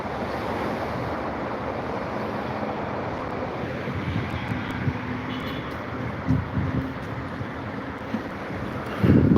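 Calm sea washing onto the Alexandria shore in Egypt, a soft continuous surf rush blended with wind buffeting the microphone, with a louder gust near the end.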